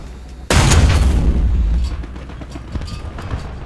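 The 75 mm gun of an M8 HMC fires in War Thunder: one loud, deep boom, sudden and close, rumbling for about a second before fading into engine noise.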